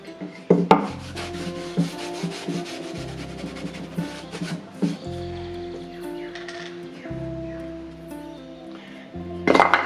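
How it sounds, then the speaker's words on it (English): A cloth rubs diluted wood stain onto recycled timber, making close, repeated scrubbing and brushing strokes in an uneven rhythm, with a few light knocks and clinks mixed in. "I've simply applied the stain like this, just using a piece of cloth."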